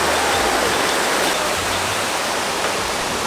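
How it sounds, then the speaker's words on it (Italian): Waterfall on a trek near Sapa in northern Vietnam, a dense continuous roar of rushing water filling the whole stretch, steady and close with no voices. "E siamo giunti alle cascate."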